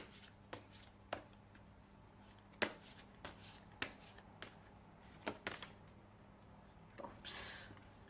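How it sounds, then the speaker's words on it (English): Reading cards for a pick-a-card reading being shuffled by hand, with quiet rustling broken by irregular sharp snaps and taps as the cards knock together, close but faint, with no talking. "I'm going to take these cards to shuffle"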